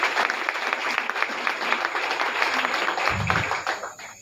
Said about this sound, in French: Et je voudrais qu'on l'acclame également.